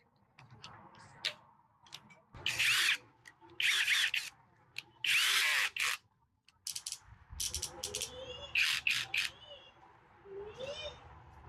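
An 18-volt cordless hand drill with two speed modes, adjustable torque and a keyless chuck whirs in several short bursts separated by pauses, loud and close, with clicks and handling sounds and some speech between runs.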